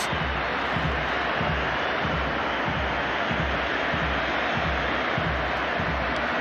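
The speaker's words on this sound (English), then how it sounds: "time for Lionel Messi to take his own personal round of applause" A football stadium crowd applauds Lionel Messi with a dense, steady roar of clapping and cheering. It sounds distant but fills the whole stretch at an even level.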